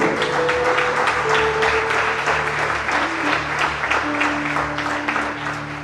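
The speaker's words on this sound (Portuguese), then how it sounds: "Aplauda o Senhor" Congregation applauding during an online church worship service, a dense steady wash of many hands clapping together with sustained organ or keyboard tones beneath, filling the whole stretch at even loudness.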